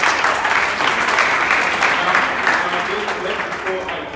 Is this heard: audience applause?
yes